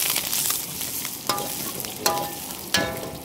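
Curry leaves crackle and sizzle in hot oil for a dosa masala filling: a steady frying hiss runs throughout, broken by three sharp spattering pops spaced about a second apart, close and fairly loud, with no talking.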